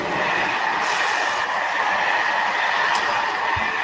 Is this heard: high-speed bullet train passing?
yes